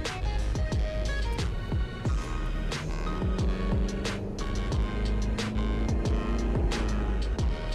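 Toyota HiAce minibus with a turbodiesel engine accelerating, heard from inside the cabin as a steady low throb and hum with rising engine tones, moderately loud and continuous without talk.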